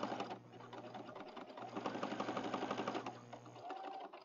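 A sewing machine stitches across a junk journal page, its steady mechanical whir running close and continuous with a brief pause partway through.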